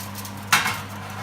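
A single metallic clank is heard as a foil-covered foie gras dish goes into a hot oven. It is brief and fairly close, followed by a softer knock, over a quiet low hum.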